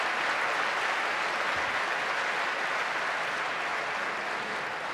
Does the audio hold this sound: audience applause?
yes